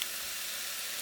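Soy sauce sizzling in a hot pan of andouille sausage fried rice, a steady close hiss with nothing else heard.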